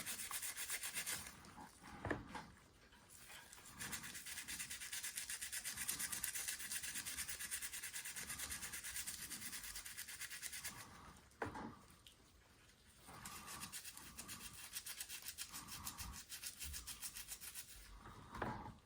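A medium-bristle toothbrush scrubs stubborn paint off a 2013 Revell Boss 302 model car body, a continuous close, harsh rubbing rasp with brief pauses between strokes.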